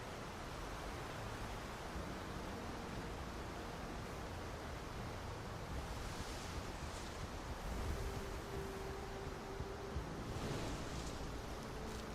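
A river flows in Alan Wake Remastered with a steady broadband rush of water, continuous and fairly quiet, with a faint tone surfacing briefly near the end.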